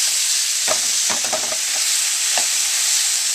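Ground meat seasoned with salt and pepper fries in a pan under a loud, constant sizzle, while a utensil breaks it up in a few scraping strokes near the start and once more later, all close up.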